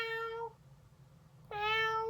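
A human voice imitates a cat's meow twice, with a short pause between them. Each call is tonal and close, and the second is louder with a rising inflection at the start.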